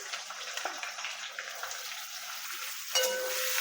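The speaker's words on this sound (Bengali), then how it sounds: "ওই রসুন কুচিটা লাল হয়ে গেলে তারপরে দিয়ে দিচ্ছি পেঁয়াজ কুচি" Chopped onion hits a pan with browned chopped garlic, a moderate crackling sizzle with stirring scrapes, then a sudden louder burst of hiss toward the end as the sizzle intensifies.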